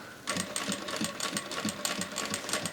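A Vevor industrial sewing machine stitches slowly around a curve on a fabric zippy clutch bag. Its rapid rhythmic needle clatter starts after a short pause and runs at a steady pace, close and alone.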